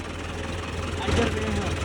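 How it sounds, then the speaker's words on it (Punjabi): A New Holland 850 tractor engine idles at a low, steady rumble in a field, heard close but moderately quiet, with a person talking over it. "ਇੰਨਾ ਟਰੈਕਟਰ ਮਰਨ ਤਿਕਰਾਂ ਗਿਆ ਹੈ, ਸਵੇਰ ਦਾ ਚੱਲਿਆ ਹੈ।"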